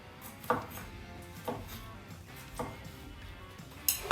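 A knife slices through fresh burger toppings on a board, giving four or five evenly spaced, moderately loud cuts with faint kitchen clatter between them and no talking.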